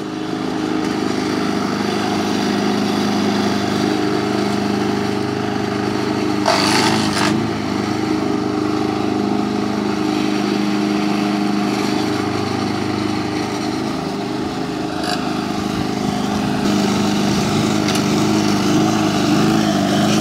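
Small motorized lawn mower with a single front wheel runs steadily close by as it turns, its engine drone continuous for the whole stretch with brief scraping and rubbing noises from the cutting, throwing grass out the side.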